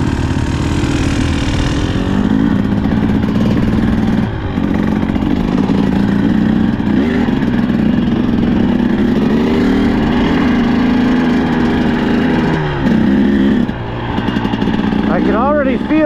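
A 2024 Husqvarna TE 300 Pro dirt bike runs steadily under a rider's voice, its mid-pitched engine droning with a brief drop near the middle and a short rev toward the end.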